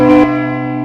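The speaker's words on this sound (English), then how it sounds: "If you're not prepared and that bell rings, I guarantee you're gonna be shocked and surprised." A single loud church bell strike rings out from the cathedral tower in Geneva, Switzerland, its bright metallic tone holding and slowly decaying after the initial hit.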